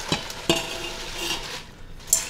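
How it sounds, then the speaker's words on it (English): Spinach being stirred into cooked pearl couscous in an Instant Pot, with a few close, distinct scraping strokes of a utensil against the pot and soft rustling in between. "So I'm gonna stir that in there."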